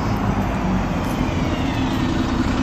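A bus passes in street traffic with a steady, close rumble of engine and road noise, a broad roadway hum throughout.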